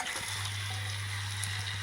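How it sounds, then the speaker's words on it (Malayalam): Chicken added to spiced masala in a pan for a chicken roast, a soft steady sizzle and crackle with a low hum beneath, faint and continuous, no voices. "ഇനി നമ്മൾ അതിലേക്ക് ചിക്കൻ ചേർത്ത് കൊടുക്കാം."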